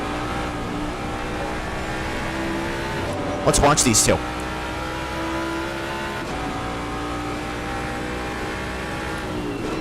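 GT3 race cars, including a Ford Mustang and a Ferrari 296, roar around Silverstone in a video game. Steady engine drone throughout, swelling briefly into a loud passing rush midway, under continuous commentary.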